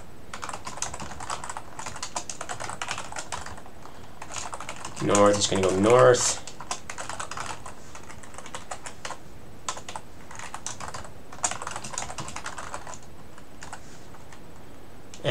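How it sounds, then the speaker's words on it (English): Rapid keyboard typing clatters steadily throughout during a Rust programming session, with a short burst of someone speaking partway through. "but it's just a lot of typing here."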